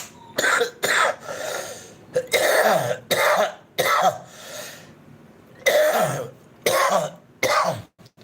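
A series of harsh, wet coughs in bursts, some single and some in quick pairs, loud and close with short pauses between.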